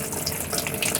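Water rushes steadily into a small RV washing machine as it fills, a continuous close splashing hiss with no voices.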